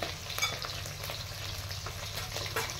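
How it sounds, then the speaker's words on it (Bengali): Hilsa fish pieces frying in oil in a pan for fish cutlets, giving a steady, close crackling sizzle with occasional sharper pops, alone without talk. "মাছগুলো তখনকে ভাজা হোক"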